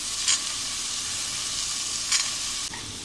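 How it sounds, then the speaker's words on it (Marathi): Peas tipped into a hot pan with sautéed tomato set off a steady, even sizzle and hiss of frying, with two brief sharper crackles and no talk. "आता आपण याच्यामध्ये हे वाटाणे टाकूया"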